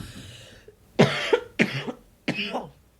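Three loud, close, raspy coughs in quick succession after a stretch of faint background noise.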